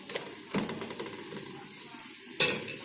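Chicken pieces sizzle in a pot while a spoon stirs them, with a couple of sharp metal scrapes and clinks against the pot over a soft, steady frying hiss.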